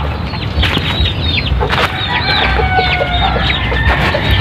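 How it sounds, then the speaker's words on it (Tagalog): Chinese chickens clucking steadily at close range, with overlapping calls and a few higher, sharper squawks throughout; no one talks. "5 mga Chinese chicken ito yung nilipat natin sa baba"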